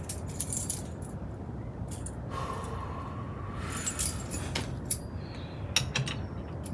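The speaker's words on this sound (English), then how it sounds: "Here are the keys." A set of keys jangles in short metallic bursts close by, with clinks scattered throughout against steady background noise and no talk, during a trailer build.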